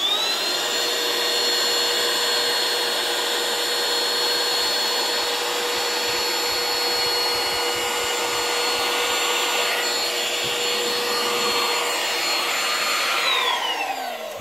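Digoo DG-H1 Pro handheld car vacuum sucking up flour, a steady loud close whine with a continuous airy roar that holds unchanged for the whole stretch.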